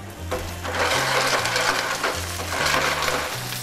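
Steady sizzling and crackling of garlic frying in a pan, continuous and close, with a low mechanical hum underneath.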